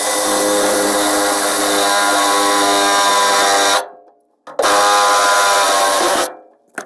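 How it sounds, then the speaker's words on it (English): Power drill boring holes through a pickup truck bed to mount a fuel cell, two loud sustained whirring runs with a high-pitched drill whine, separated by brief silent pauses. "let's drill the bed for the fuel cell."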